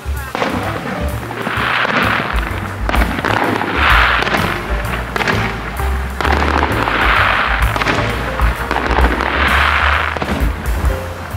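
Fireworks bursting over Lake Toya at the lakeside festival in Hokkaido, Japan: a loud, sustained run of booms and crackling blasts, several big bursts spaced every few seconds with rumbling echoes between them, and people talking faintly underneath.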